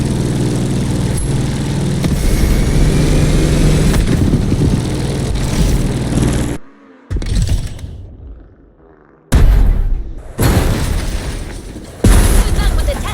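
A car fitted with a 632 big block crate engine in The Crew Motorfest roars loudly and steadily, then cuts out into near silence before firing back up in a few short, booming revs.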